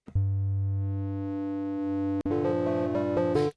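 A steady synthesizer tone with a rich stack of harmonics holds for about two seconds, then shifts abruptly into a brighter, busier chord-like sound.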